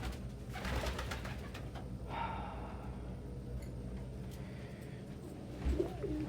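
Pigeons murmur with faint, low coos inside a loft, quiet and steady amid soft rustling and a faint background hum, with a slightly louder coo near the end.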